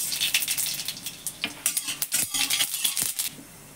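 Dried red chillies and mustard seeds crackling in hot oil in a pan while being stirred, with sharp popping bursts and a steady sizzle building over a few seconds at close range.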